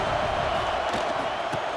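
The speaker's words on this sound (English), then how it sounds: "this crowd really affecting the football now" Home crowd in EA Sports College Football 26 roars steadily through a college football play, a dense, continuous wash of cheering with no breaks.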